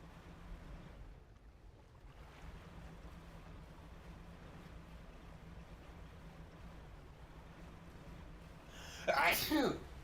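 One sharp, loud sneeze bursts out at the very end, close to the microphone, after a long stretch of quiet wind and water ambience from a fishing boat in Dredge, with talking beneath.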